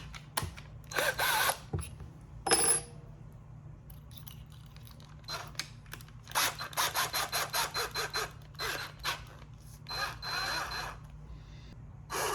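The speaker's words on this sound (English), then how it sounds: "let's see if my smallest drill bit is the right size" A small power drill fitted with a 1/8 inch bit, working on bike parts, runs in repeated short bursts, with quick rattling pulses and pauses between them, close and fairly quiet.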